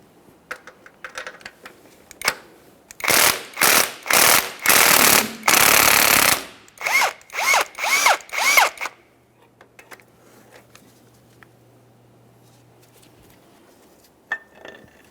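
A power tool works the last transmission mount nut on a 2012-2015 Honda Civic 1.8L. Loud, close bursts start short, run into a longer sustained burst, then break into several shorter rattling bursts before it falls quiet.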